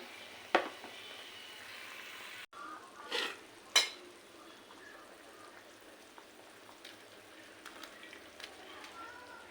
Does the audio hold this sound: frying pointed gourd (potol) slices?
yes